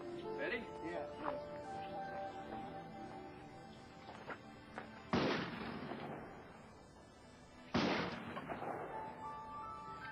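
A shotgun loaded with a 3-inch Magnum shell in a gun chambered for 2 3/4-inch shells fires two sharp, loud blasts several seconds apart, each ringing out briefly, while people talk nearby between shots.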